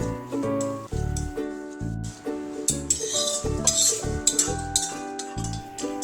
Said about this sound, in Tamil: அடுத்தது பிரிஞ்சி இலையும் கருவேப்பிலையும் ஒன்றா வறுத்து போட்டுக்கலாம்.